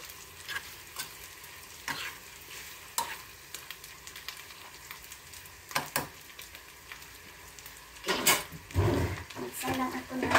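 Pork menudo ingredients sauté in a pan with a steady oily sizzle and repeated scrapes of a spoon stirring, louder spatula strokes near the end, while a voice speaks briefly.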